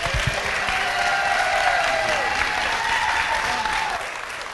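An audience at a city council meeting applauds in a dense, steady burst of clapping that carries on evenly for several seconds before easing slightly at the end.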